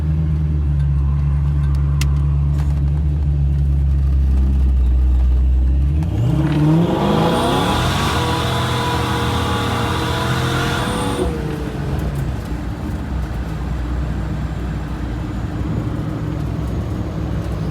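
A supercharged Ford Foxbody with an automatic transmission pulls hard under throttle, its engine rising steadily in a loud, close sweep before easing off into a steady cruising drone.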